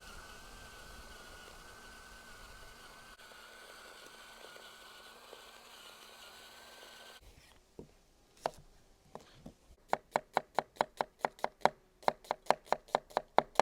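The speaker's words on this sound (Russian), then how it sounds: "я лук нарезаю очень тоненько" Knife slicing onion very thinly on a board for a lamb shashlik marinade, a fast, regular run of crisp close taps that speeds into an even rhythm after a quiet stretch.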